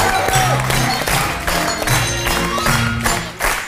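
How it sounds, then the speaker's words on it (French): Studio audience applause on a French television talk show, a dense steady wash of clapping that fills the whole stretch, mixed with tonal music running underneath. "On peut applaudir fort."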